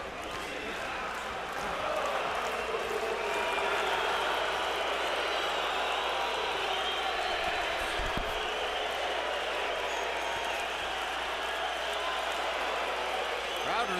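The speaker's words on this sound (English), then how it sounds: "Crowd responding wildly to something here" A boxing arena crowd erupts during a fight: dense, sustained cheering and roaring from many people, loud and even, with a faint thud partway through.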